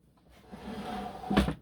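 A bottom drawer in a small craft room slides open, a soft rising scrape ending in a brief louder knock near the end, close and alone.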